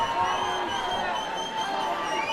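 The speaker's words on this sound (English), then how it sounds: "And the crowd going nuts." A wrestling crowd in a packed hall roars and cheers wildly, with whoops and shouts forming a dense, continuous wall of noise from start to finish.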